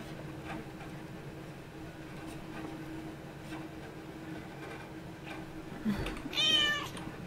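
A person imitates a cat with a short meow near the end, heard faintly over a quiet background hum.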